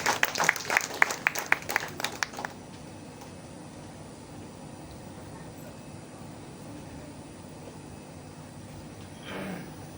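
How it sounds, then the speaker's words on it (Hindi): Audience applause at an Indian poetry event, a burst of loud clapping for the first two and a half seconds that stops abruptly, leaving a quiet hall with faint room noise. "एक बार जोरदार तालियां आप सभी"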